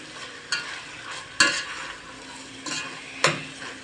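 Onions and tomato paste sautéing in a pot with salt, a soft continuous sizzle broken by a few sharp metallic scrapes and clinks as a spoon stirs against the pot, no talking.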